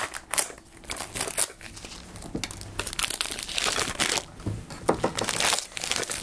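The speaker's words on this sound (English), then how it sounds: "as excited as I get when you unwrap a cassette" Plastic shrink wrap crinkles and tears as it is peeled off a cassette tape, a busy close stream of crackling rustles with brief pauses.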